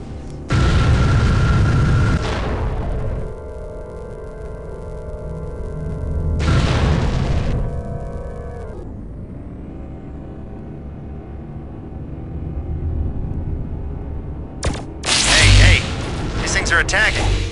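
Heavy space minefield explosions in Tachyon: The Fringe, three loud broadband blasts spaced apart with a low engine hum and music between them, and a voice speaking through the quieter stretches.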